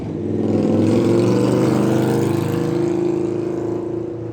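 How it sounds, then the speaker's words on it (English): A motorcycle passes by outside, its steady low engine drone swelling and then easing slightly as it goes, with no talking over it. "That was a motorcycle that went by."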